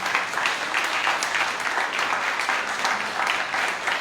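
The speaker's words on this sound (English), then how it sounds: "a round of applause for Doug" A round of applause for Doug at a story night in Bremerton, Washington, a dense steady patter of clapping from a small audience lasting a few seconds.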